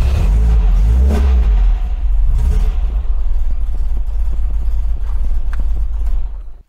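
An MGB's engine revs loud and close, with a strong low rumble that holds steady, then drops away sharply at the very end.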